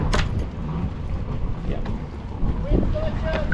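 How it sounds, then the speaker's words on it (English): Strong wind roars across the microphone on a sailboat out on the water, a loud, continuous buffeting rumble with flapping gusts and faint shouting voices in the background. "Wind's got ya!"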